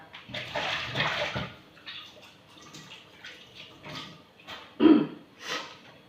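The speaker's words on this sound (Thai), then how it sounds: "เดี๋ยวขอล้างมือแป๊บหนึ่งนะคะ" Hands are washed under running water in irregular splashy bursts, loud then quieter, with short gaps as the hands move in and out of the stream.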